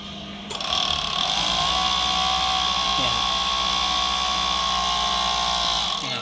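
A Juki overlock sewing machine starts up and runs at a steady high whir with a smooth mechanical hum, close by, then stops near the end.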